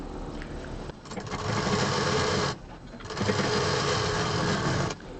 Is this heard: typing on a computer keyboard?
no